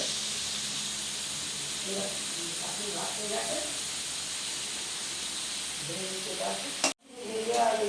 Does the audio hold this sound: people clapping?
no